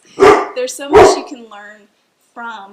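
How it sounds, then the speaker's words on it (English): Several dogs bark indoors, with loud bursts breaking over a woman's ongoing speech and a few higher whining or yipping barks after she pauses. "sorry for my dogs"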